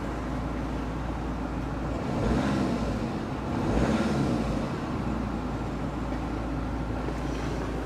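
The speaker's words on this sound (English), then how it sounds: "If I rev the car" Vauxhall Zafira B 1.7 CDTI Z17DTJ diesel engine, suffering loss of power, black smoke and no boost, rumbling at idle and then revved twice in swelling surges before settling back, a steady low drone heard up close.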